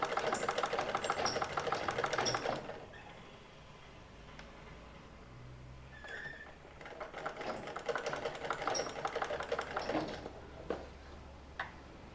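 A sewing machine stitches fabric in close, fast rhythmic runs of mechanical clatter, pausing briefly in the middle before starting again, with no talking.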